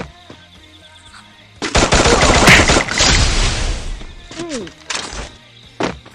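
Rapid gunfire rattles in a Free Fire mobile game, with a dense close automatic burst followed by scattered shots and thuds, mixed with game effects and a voice talking over it.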